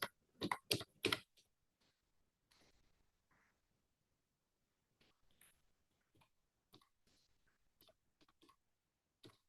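Typing on a computer keyboard into a search bar in Canva: a quick, close cluster of crisp keystrokes at the start, then sparse, quieter taps separated by near silence.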